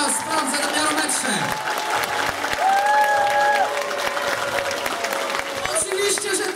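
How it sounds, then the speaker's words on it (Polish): Parents clap for a children's dance group at a dance challenge event, a steady, lively round of applause from a crowd that continues throughout, with an adult voice speaking over it. "wielkie brawa dla grupy poręczowej"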